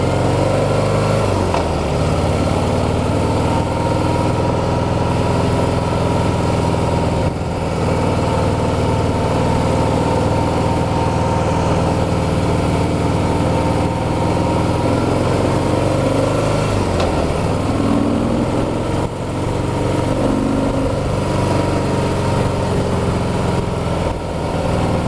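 A 2016 Harley-Davidson Heritage motorcycle with a 103 engine idles steadily and close by, a deep continuous throb with a slightly uneven low rumble and no voices.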